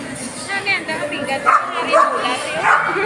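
Small dog yipping and barking a few times, mixed in with steady chatter from several people nearby.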